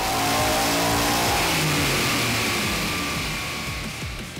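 An Edelbrock supercharged Coyote V8 crate engine with 12 pounds of boost, fitted in a Mustang, revs hard and loud, a sustained rising roar that slowly eases off.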